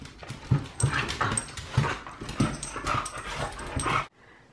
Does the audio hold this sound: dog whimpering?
yes